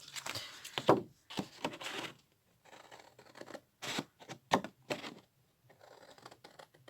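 Heavy scissors snip paper repeatedly in short bursts with pauses between, close by and fairly quiet.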